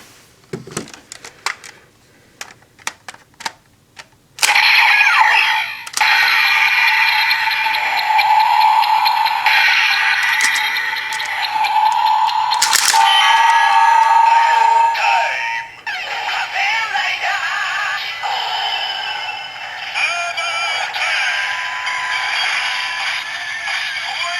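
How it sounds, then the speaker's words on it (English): A few sharp plastic clicks and taps on a Kamen Rider Zi-O Ride Watch toy, then a bright electronic chime and whirring toy sound effects play continuously and fairly loudly, with no talking. "you can kind of press the button to imitate the normal button pressing sound"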